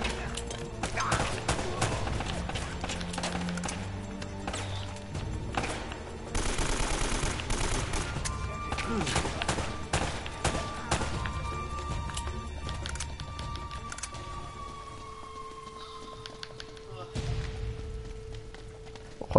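Bursts of rapid gunfire crackle amid game sounds and galloping hooves in Uncharted on PS4, with someone talking over the action.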